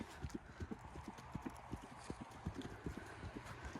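Horse trotting on a lunge line, hooves striking the ground in a steady, even clip-clop rhythm, fairly close but soft over low background noise.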